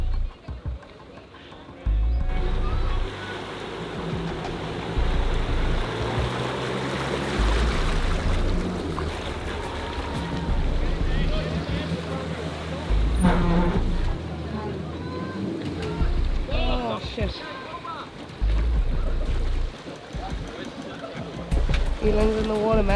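A car fords Nolan's Brook, a creek on the Cape York Telegraph Track, pushing through deep water with its bonnet submerged; loud churning and splashing mixes with a low engine rumble throughout, and people talk and call out over it.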